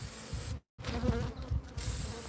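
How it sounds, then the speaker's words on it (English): A swarm of aggressive bees at a large hive buzzes in a loud, dense hum, cutting out briefly to silence before resuming with fluctuating intensity and swelling louder at the end. "There is a huge hive under here, and these are, we can tell, these are aggressive bees"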